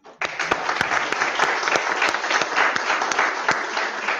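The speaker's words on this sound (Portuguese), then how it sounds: "Então eu gostaria de pedir uma salva de palmas para vocês" An audience at a radiology education talk breaks into a round of applause, a sudden onset of dense, sustained clapping from many hands with a few sharper individual claps standing out, loud and continuous.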